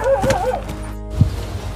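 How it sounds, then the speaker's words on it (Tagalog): At a household yard guard post, a dog gives a few short, close yips and barks, brief and a little whiny, over steady background noise. "Aso po yan."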